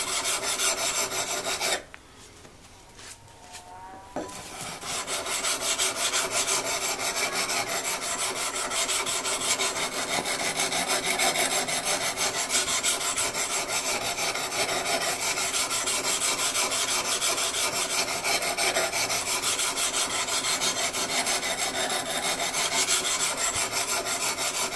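Steady, continuous rasping of a file or stone sharpening the large bevel of a timber framing tool clamped to a sturdy work surface, close and loud, briefly pausing near the start before running on evenly.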